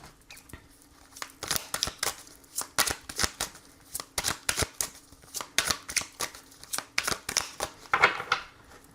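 Tarot cards are shuffled for a reading, giving a close series of crisp, papery riffles and slaps in irregular bursts, with no talking over them.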